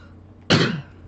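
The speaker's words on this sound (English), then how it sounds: "I got a little bit of a cough" A single sharp cough bursts out close by, loud against a quiet background and fading within about a third of a second.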